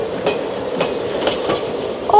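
A toy train rattles along with rhythmic clickety-clack beats, close and steady, ending in a short bright whistle-like tone.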